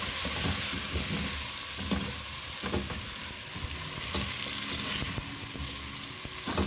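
Beef sautéing in a pan for sinigang sizzles and crackles steadily, with scattered stirring scrapes and pops close by and no talking.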